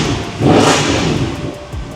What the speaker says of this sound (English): I gotta rev this thing real quick.